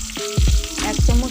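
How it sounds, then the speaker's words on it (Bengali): Raw tomatoes go into a pan of frying small fish, giving a brief bright sizzle broken by several soft, low thuds as they drop in close by. "এরপরে কাঁচা টমেটোগুলো দিয়ে দিচ্ছি"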